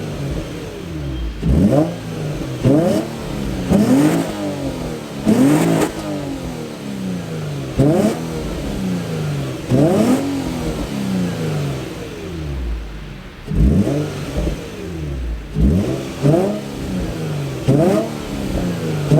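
A Nissan Z with its muffler deleted revs repeatedly in sharp, rising bursts, loud and close, each blip falling back to a rumbling idle before the next pull.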